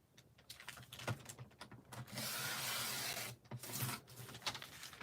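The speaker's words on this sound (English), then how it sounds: "I'm only going to trim off just the very edge." A paper trimmer slices along the very edge of decorative card-making paper, a steady scraping glide of about a second and a half followed by a second shorter pass, amid light handling and rustling of the sheets.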